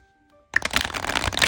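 A deck of playing cards being shuffled up close: after a brief quiet start, a sudden crisp riffle breaks into a fast fluttering burst of paper slaps that runs to the end.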